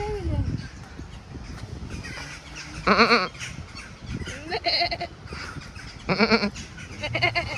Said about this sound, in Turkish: Burada da keçiler var